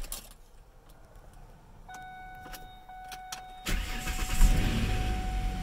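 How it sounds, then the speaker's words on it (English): A Ford Ranger engine cranks and catches after a few clicks and a faint whine, then settles into a loud steady running rumble nearby. "Time to see if the engine still starts."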